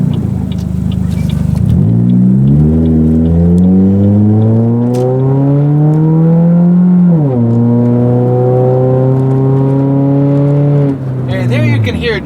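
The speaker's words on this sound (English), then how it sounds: "there you can hear just how loud the exhaust is in this car" A modified 2006 Chevy Cobalt revs hard, its loud exhaust climbing steadily in pitch over several seconds, dropping back briefly, then holding a high drone before cutting off; the engine sound is close and dominant.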